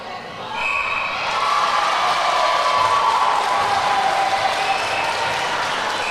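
Spectators at a Wales vs Scotland under-17 netball championship match keep up a sustained crowd roar of cheering and clapping that swells and holds throughout, filling an indoor arena.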